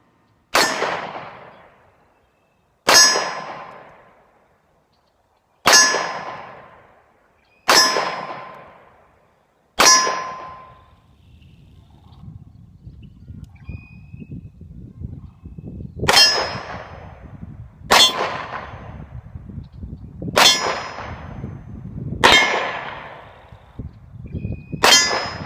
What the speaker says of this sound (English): I'll leave you a little more footage of us shooting out there on the hard target range.